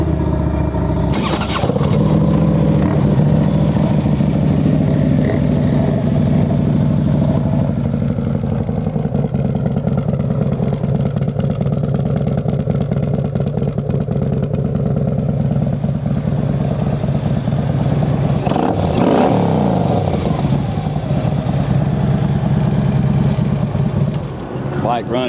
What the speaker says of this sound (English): Bike runs really nice.